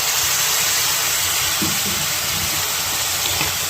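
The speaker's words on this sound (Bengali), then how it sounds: "এবার আমি জল ঢেলে দিচ্ছি।" Water poured into a hot frying pan while cooking Bengali sukto gives a steady, loud hiss of steam that fills the whole clip, with no talking over it.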